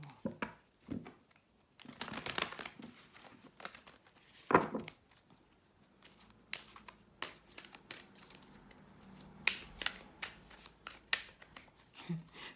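Oracle cards being shuffled and riffled in irregular bursts, close and fairly quiet, with soft handling noises in between.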